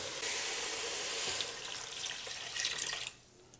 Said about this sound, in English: we're going to add our bay leaf as well and our water